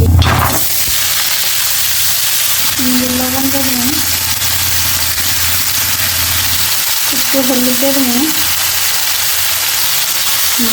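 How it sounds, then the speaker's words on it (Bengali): Cumin, mustard and nigella seeds fry in hot oil in a wok, a steady broad sizzle running loud and close throughout, with a voice speaking in short bursts over it. "কড়াইটা গরম হয়ে গেছে কারণ তেল দিয়ে দেবো এই যে জিরে আর সরিষার কালি জিরাটা দিয়ে দেবো"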